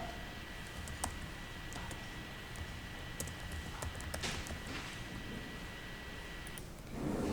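Keys clack on a computer keyboard while a program is typed, a quiet sparse run of separate clicks over steady room hiss, with no voices.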